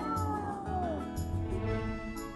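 A cartoon kitty in the video game Rack N Ruin meows repeatedly in a drawn-out, wavering whine over a steady game background, loud and close, with no talk.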